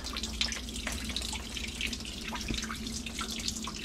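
Raw sewage water leaks from a clogged sink drain, giving a continuous close trickling and splashing flow with small drips, alone and without speech.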